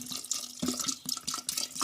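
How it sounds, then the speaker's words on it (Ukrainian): Cold water runs and splashes into a jar of strawberry compote in short, uneven pulses, close by, with a trickling, bubbly sound and no talking. "І заливаю до повної баночки холодною водою."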